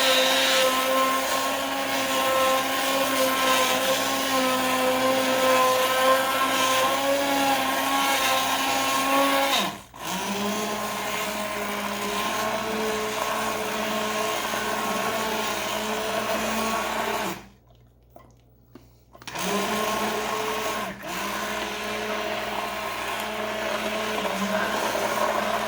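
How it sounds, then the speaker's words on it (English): An old kitchen blender, about 30 to 35 years old, runs on high while blending green chili, giving a loud, steady motor whine that cuts out briefly twice and drops off for a couple of seconds before roaring back. "this particular blender is also very easy to clean"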